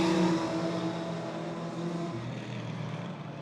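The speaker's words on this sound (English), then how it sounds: "That distinctive popping sound you might have heard over the mics just then" A race car in a 35-minute QRDC race at dusk passes with a loud, steady engine drone whose pitch drops partway through, and its exhaust popping is not separately clear.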